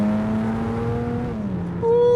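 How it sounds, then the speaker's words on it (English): A BMW E92 325i with a custom catback exhaust drones at steady cruising revs from inside the cabin, then the pitch shifts and climbs as the engine is revved harder. "I got a custom exhaust, custom catback exhaust."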